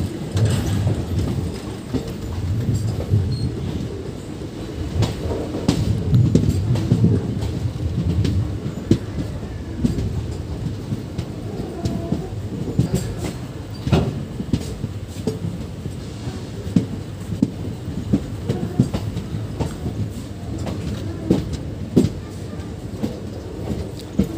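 A Pratapgarh–Banaras passenger train, number 05118, rolls along the tracks with a steady loud rumble and a continuous clatter of wheels, heard from on board for the whole stretch.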